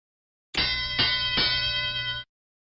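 Bright bell ding sound effect struck three times in quick succession, ringing loud and close with a sustained shimmering tone before cutting off abruptly.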